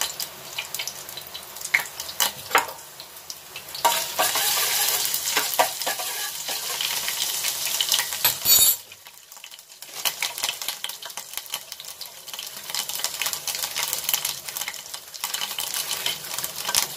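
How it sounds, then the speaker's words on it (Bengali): Crushed ginger dropped into hot boiling oil, a loud crackling sizzle that runs continuously, briefly cuts out, then resumes with steady frying hiss. "এবারে ফুটন্ত তেলের মধ্যে সেই থেঁতো করা আদাটি দিয়ে দেবেন।"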